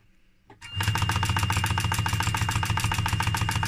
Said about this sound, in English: So here it is, we again reinforcing our seam.